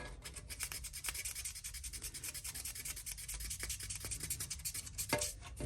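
Fine-grit sandpaper, moving up to 3000 grit, rubbing continuously over a 1/24 scale Aoshima Range Rover model body, a close, steady scratchy sanding texture with brief sharper strokes and no voice.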